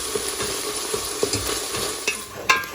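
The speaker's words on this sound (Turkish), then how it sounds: "Şimdi kıymam kavruldu arkadaşlar." Minced meat sizzles in a pan while a utensil stirs it, steady frying hiss broken by several sharp scraping clicks, close and moderately loud, with no talking.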